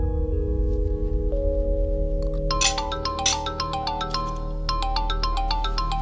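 A phone ringtone for an incoming call plays loudly and alone for several seconds, a repeating bright melodic tone pattern over a low steady hum in an indoor household setting.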